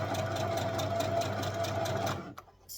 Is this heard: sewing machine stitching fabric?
yes